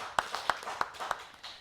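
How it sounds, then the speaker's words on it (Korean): A church congregation at a Full Gospel Sunday worship service claps in praise, a few loud, distinct claps in a steady rhythm, about five sharp strikes over a soft room background. "하나님께 영광의 박수 드리겠습니다."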